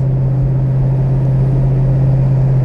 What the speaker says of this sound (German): Vor allen Dingen hat er einen tollen Sound, der Wagen. Der bollert schön tief.